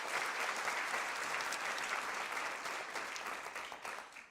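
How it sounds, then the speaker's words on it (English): Steady, dense applause from an audience fills a senior honors ceremony hall, holding strong for several seconds before gradually thinning toward the end. "Yeah, clap it up."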